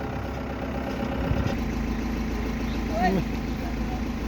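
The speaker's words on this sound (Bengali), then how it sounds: "এই গাড়ি স্টার্ট দিছে" A vehicle engine idles with a steady low rumble just after starting, running continuously throughout with no clear change in pace, while faint background sounds drift over it.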